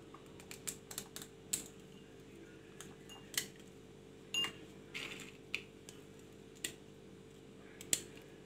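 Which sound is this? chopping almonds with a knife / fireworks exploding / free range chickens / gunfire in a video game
chopping almonds with a knife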